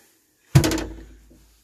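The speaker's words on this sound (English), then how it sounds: "Going to go through this door into the forepeak" Wooden door on a Laurent Giles 35 classic sailing boat bumping as it opens into the forepeak, a single close knock that rings briefly and fades.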